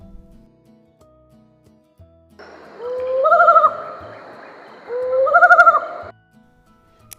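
An owl gives two drawn-out, wavering hoots separated by a short pause, clear and fairly close over near silence.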